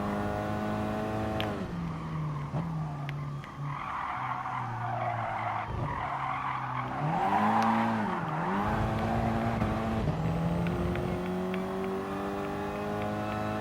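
A Ford Focus ST hatchback races a reverse lap of Dragon Trail Gardens in Gran Turismo Sport, its engine droning and rising through gears while the tires squeal loudly through corners, continuous and close.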